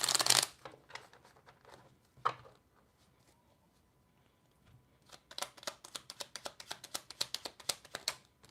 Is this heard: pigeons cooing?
no